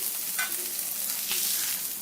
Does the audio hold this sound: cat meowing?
no